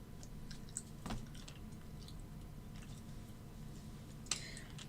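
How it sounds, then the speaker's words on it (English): Gum chewing close to the microphone, soft wet mouth clicks scattered through a steady low background hum, with a couple of sharper ticks and no talk. "Yes, I'm chewing gum."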